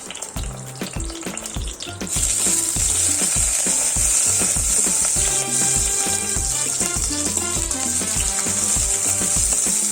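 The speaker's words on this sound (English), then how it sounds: "Saute green chilies and onion for few minutes." Green chilies and onion sauté in coconut oil with a loud, continuous frying sizzle that jumps up after the first couple of seconds, while a spatula scrapes and stirs in a rhythmic pattern underneath.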